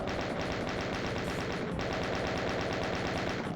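In the Doom video game, a chaingunner fires its chaingun in a continuous, rapid, even burst of loud mechanical gunfire that runs throughout with no pause and no voices.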